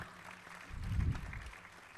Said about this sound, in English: A big round of applause for Dr. Amit Jain.